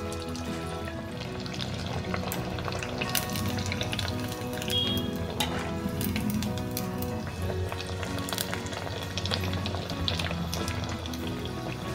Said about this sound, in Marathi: आता मी तयार केलेले राईसचे वडे मी ह्याच्यामध्ये डीप फ्राय करून घेणार आहे।